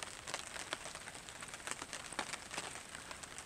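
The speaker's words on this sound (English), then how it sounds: "But yeah, it's raining." Rain patters steadily on a tarp at a lakeside camp, a dense crackling spatter with scattered sharper drops, close and fairly quiet, with no voices.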